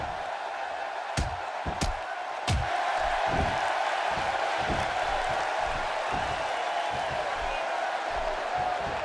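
A wrestling arena crowd in WWE 2K16 roars in a steady, loud, unbroken wash during a Stone Cold vs Triple H match, with sharp slam-like hits early on and commentators talking over it.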